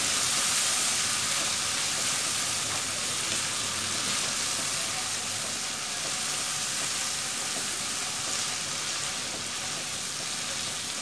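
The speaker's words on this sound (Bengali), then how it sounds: "মশলাটা তেলের পরে কষিয়ে নিতে হবে।" Spice paste for a prawn and taro curry sautéing in hot oil, a steady close sizzle and crackle that holds evenly throughout, with no talk.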